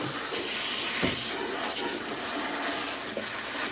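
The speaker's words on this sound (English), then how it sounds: "Rinse off any impurities." Tap water runs steadily over collard greens being rinsed clean at a kitchen sink, a continuous splashing wash with brief bursts of stronger spray, close and fairly loud throughout.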